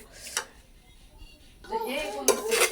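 Fried vermicelli is stirred in a metal pan, a spoon scraping and clinking against the pan in a few irregular strokes, louder toward the end, with a voice speaking nearby.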